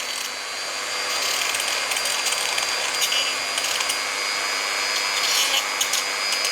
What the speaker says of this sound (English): I'll go through and make sure all my sharp edges are ground off before I start bending.